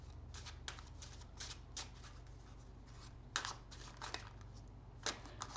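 A deck of playing cards being shuffled up close, giving a run of soft, rapid riffling bursts and flicks that come in irregular clusters over a low steady background hum, with no talking.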